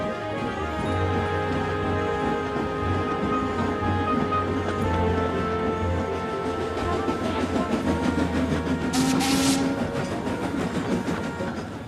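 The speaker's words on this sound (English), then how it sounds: "He buffered up to James and took him along with all the trucks to the docks." Steam engine pulling a line of freight trucks in a children's animated railway story, a steady rolling rumble with rhythmic clicking of wheels over track, continuous and fairly close, with a brief hiss near the end.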